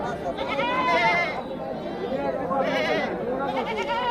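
Two very large goats bleat in several wavering cries, close by, mixed with background chatter from a crowd at a livestock market.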